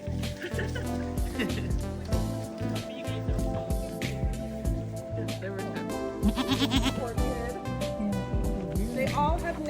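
Goats bleat at a creamery in repeated wavering cries, some near and some farther off, mixed with people talking and other farmyard noise.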